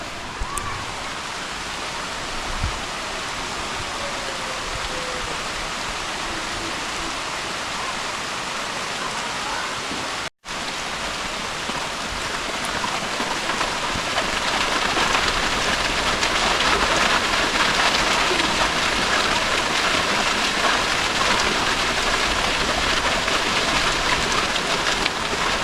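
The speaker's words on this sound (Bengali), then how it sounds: "বৃষ্টি পড়ছে" Rain falls outside in a dense, steady hiss, briefly cut off once and then growing slightly louder and fuller, with no voices over it.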